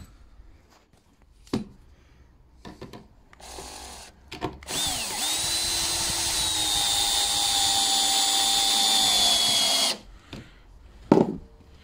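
Power drill driving screws into a timber window frame, a loud steady whirring run of about five seconds with a rising pitch, surrounded by scattered knocks and handling noises.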